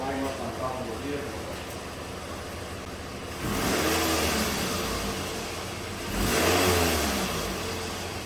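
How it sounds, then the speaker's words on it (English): A 2009 Pontiac Vibe engine idling, then revving sharply twice on snap throttle, each burst rising and falling back, heard close with a voice speaking briefly at the start. "Let's see if it responds to a snap throttle."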